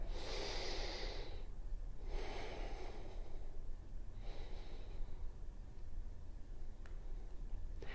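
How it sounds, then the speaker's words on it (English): Slow, audible breaths during a seated forward fold in gentle chair yoga, three long airy exhalations spaced a couple of seconds apart over a steady hiss of room noise. "Take a few breaths here."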